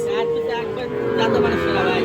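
Sahiwal bull calves low and moo steadily at a busy Bangladeshi cattle market, a close, continuous bovine call with crowd voices faintly underneath.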